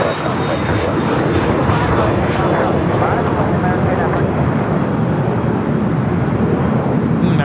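A sports charter airliner arriving from San Antonio rumbles loudly on approach to LAX, a steady broad engine roar close by, with people talking over it.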